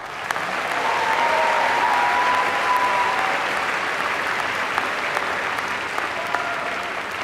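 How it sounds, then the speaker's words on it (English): A large audience claps steadily for several seconds at a graduation diploma ceremony, a dense, sustained wash of applause without voices rising above it. "Please join me in another round of applause."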